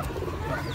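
Brief, soft, low cooing of pigeons, muffled and close, with no speech.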